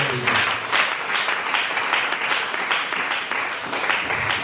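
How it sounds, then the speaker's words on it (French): A church congregation at an Easter service bursts into steady, full applause, a dense wash of clapping that holds for several seconds with faint voices mixed in. "Acclame le Seigneur Jésus."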